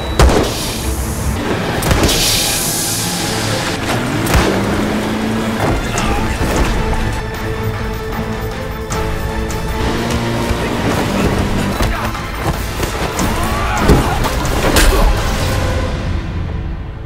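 A speedboat in a film chase races across the water, its motor droning loudly with surging swells and splashing bursts mixed with film effects over about seventeen seconds.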